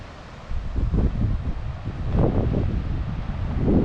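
Wind gusts across a golf course at Plaza CC's Sunrise Course, a steady rushing roar with buffeting microphone rumble that swells and fades in waves, loud and close, with no talk.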